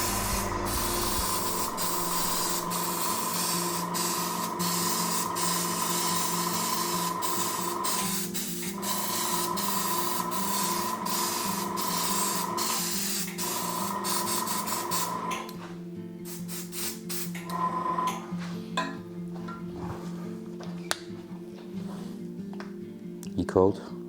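A steady hissing airbrush spray of body paint onto a person's chest runs continuously up close for long stretches, pausing now and then, with people talking over it.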